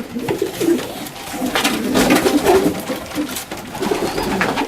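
Pigeons coo repeatedly in a loft in soft, throaty bursts, several birds overlapping close by with a low, rolling rhythm.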